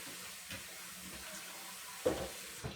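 Tap water runs steadily into a kitchen sink as cooked pasta for chicken tetrazzini is rinsed briefly, with a couple of soft knocks and splashes near the end.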